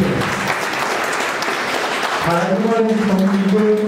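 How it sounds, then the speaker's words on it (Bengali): Audience at a book launch for a research volume on the Atrai river clapping loudly and steadily throughout, with a voice starting to speak over the applause near the end. "একটু জোরে হাততালি"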